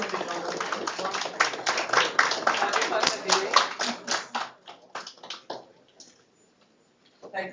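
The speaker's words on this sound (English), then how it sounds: "Give them a big round of applause." Audience applause welcoming guests at a mental wellness club inauguration, dense clapping for several seconds that thins into scattered claps and fades near the end.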